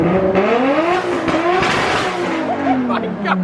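Nissan 240SX S13 engine, rebuilt and being throttle-tuned, revving loudly up and down nearby with a strained, rising and falling drone, with voices present.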